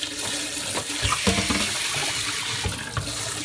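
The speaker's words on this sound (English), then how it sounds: "rinse that out, put a little water in that" Tap water runs steadily into a sink while a bowl is rinsed out during raw pork pet-food prep, a continuous close splashing hiss with a few clatters of dishes.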